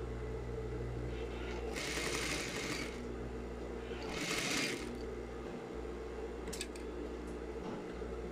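A sewing machine stitches a fabric seam in two short bursts and finishes it with a backstitch, with a constant low hum and a few light clicks in between.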